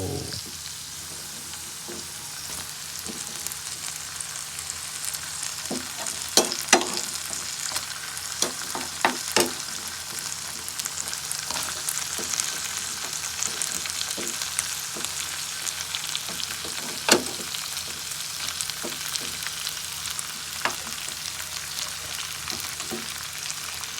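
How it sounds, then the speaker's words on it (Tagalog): Potatoes sizzle in a pan already holding sautéed garlic and onions, a steady hiss broken by scattered clicks and scrapes of stirring, with no talking. "After ng gisa-gisa, lagay na natin yung patato."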